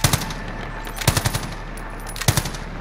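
Automatic weapons fire in the video game Call of Duty Warzone, with three short, loud bursts of rapid shots separated by brief pauses.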